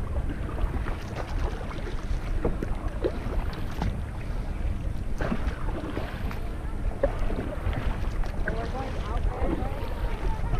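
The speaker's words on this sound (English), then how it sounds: "We are on Lake Tahoe. We are kayaking." Kayaking on Lake Tahoe, with steady low wind rumble, light water lapping and faint paddle splashes throughout; voices talk at times.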